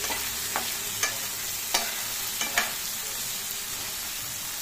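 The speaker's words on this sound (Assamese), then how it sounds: "ইয়াতে দিলোঁ বেঙেনা আৰু আলুখিনি দিছোঁ দি গোটেইখিনি ভালদৰে লৰাই দিছোঁ" Eggplant and potato pieces fry in a pan over a steady, even sizzle, while a spatula stirs them with about five sharp scraping strokes spaced a second or so apart.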